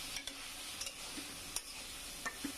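Tomatoes sauté with spice paste in a pan for hilsa fish curry, giving a steady sizzle. Several spoon scrapes and clicks mark the stirring, close by and without voices.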